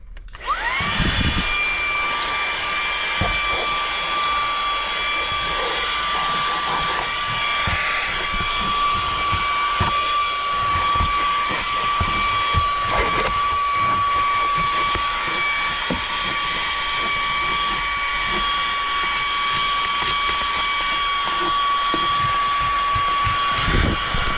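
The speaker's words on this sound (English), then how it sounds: "the vacuum is all controlled by the trigger itself" A Seesii 3in1 multifunctional tool running as a vacuum on its low setting whines steadily with a high, constant motor tone for the whole stretch, close and loud, with faint knocks and rustles as it picks up debris.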